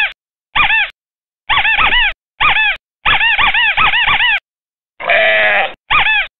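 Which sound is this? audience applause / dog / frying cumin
dog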